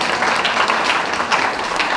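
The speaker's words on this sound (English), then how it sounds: "Please, let's give her a round of applause." Steady applause from a church congregation during a Sunday service, a dense continuous wash of clapping welcoming a speaker to the front, with a little crowd murmur mixed in.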